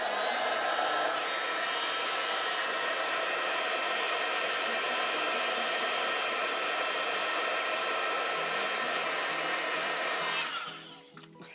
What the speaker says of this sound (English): Now my heat gun is very noisy.